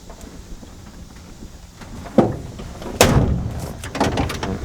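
Old classic car door, unopened for years, worked by hand with a few sharp clunks and thuds: a knock around two seconds, a heavier bang at three, then creaking rattles, fairly close with no talk.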